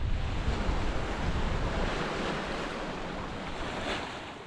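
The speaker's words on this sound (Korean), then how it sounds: "조금씩 파도가 잔잔해지기 시작했습니다." Sea waves rolling and crashing against the rocky coast below a cliff in a Korean coastal canyon, a dense, steady roar of surf mixed with wind noise on the microphone, with no voices.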